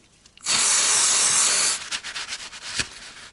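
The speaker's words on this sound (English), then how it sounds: "Clean the surface with some brake cleaner to make sure the caliper is not leaking." Brake cleaner sprays onto a rear brake caliper of a Mazda MX-5 Miata NA/NB in one loud, close hiss lasting just over a second, followed by quieter rubbing and handling sounds.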